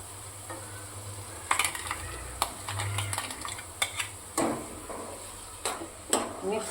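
Tomato puree goes into a pan of frying garlic and onion, sizzling steadily while a spoon scrapes and clacks against the pan in irregular strokes, close and clear with no talk.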